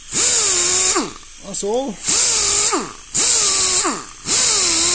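A die grinder with a small disc sharpens a hedge trimmer blade in three close, loud whining bursts. Each burst sags in pitch as the disc bites the steel, with a short spoken remark between the first and second.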